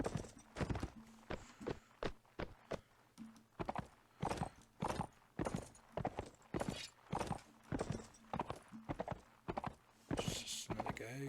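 Horse hooves clip-clopping in Mount & Blade Warband, a steady run of sharp, close hoofbeats in quick irregular clusters, continuing throughout with faint background voices.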